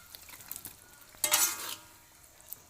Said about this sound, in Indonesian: Setelah bumbu diaduk rata, masukkan ikan yang telah digoreng setengah matang tadi.